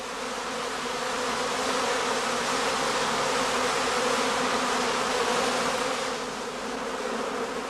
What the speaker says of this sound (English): The bees are now restless and run back and forth in the beeways